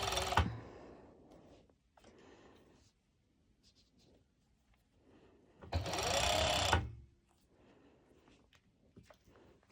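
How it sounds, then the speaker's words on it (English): A serger sewing machine stitches fabric together for a ruched halter top, short whirring bursts with a longer louder run near the middle, close and fairly quiet between pauses. "to my serger, and I'm going straight ahead into attaching it"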